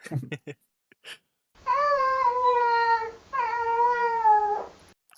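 Two drawn-out, tonal AI-generated cat meows follow a few brief faint sounds. Each meow lasts over a second, clear and close.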